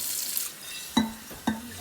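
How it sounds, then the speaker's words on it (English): Kombucha jars being rinsed under a tap, with running water hissing at first, then fading to a quiet trickle broken by two clear glassy clinks of the jars. "Just give them a little rinse off, so we don't have too many flavors merging in."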